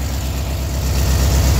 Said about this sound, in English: the motor is pretty revved up. It's because it's got that final step on the choke